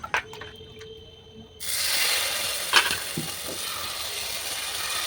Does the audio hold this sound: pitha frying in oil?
yes